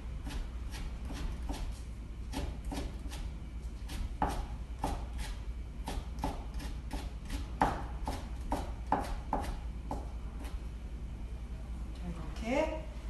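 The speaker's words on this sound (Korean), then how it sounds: "채를 썰어 주겠습니다." Knife julienning peeled cucumber on a cutting board, a steady series of crisp taps, close and moderately loud, with brief pauses between runs and faint background noise.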